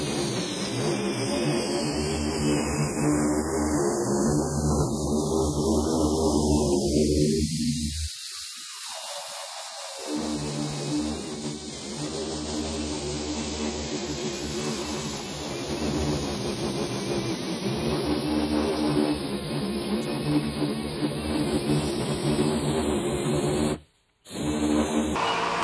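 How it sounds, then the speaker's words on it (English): A fan runs steadily in a car restoration shop, a continuous close whirring hum that wavers in pitch and pauses briefly near the end. "Sorry about the fan noise,"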